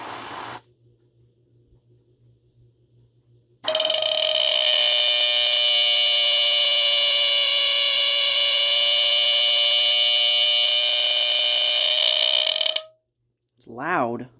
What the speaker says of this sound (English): love that sound of that modulated squealer